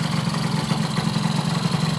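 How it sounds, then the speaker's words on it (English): A Honda Dio scooter engine idles steadily and close by, a continuous even putter with no revving and no voices. "Your bike, if the engine is tuned correctly, should sit and idle all day long at this idle."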